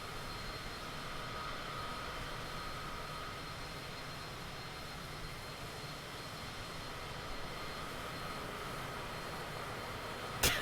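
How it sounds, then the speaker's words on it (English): A steady, low airplane engine drone from a video game hums on evenly throughout at fairly low volume, with a brief bump right at the end and no talking. "I'm sorry, brother, but the airplane noise is just too much."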